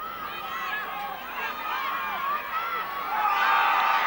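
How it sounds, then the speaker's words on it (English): Spectators in the grandstand roar steadily at a 2008 under-14 boys junior Australian rules football grand final, New Norfolk playing, with overlapping shouts and whistles that swell louder near the end. "The crowd going off in the middle of the stand."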